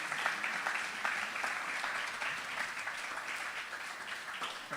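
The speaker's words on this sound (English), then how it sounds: "I now encourage you to welcome her with a round of applause" An audience at a university teaching and research awards ceremony gives steady, dense applause that holds evenly for the whole stretch, welcoming an award winner to the stage.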